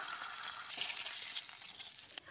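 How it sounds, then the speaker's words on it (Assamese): Chanda fish fries in hot oil in a pan, browning slightly for a fish curry with bean seeds; a steady, dense sizzle and crackle runs close and loud throughout, easing slightly at the very end. "মাছখিনি অলপ ৰঙচুৱা হোৱালৈকে ভাজি ল'ম"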